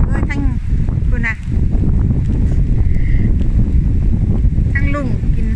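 Wind and rain outdoors, with gusts buffeting the microphone in a loud, continuous rush while people talk close by.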